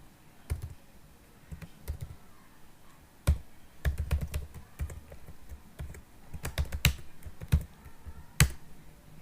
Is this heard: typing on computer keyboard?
yes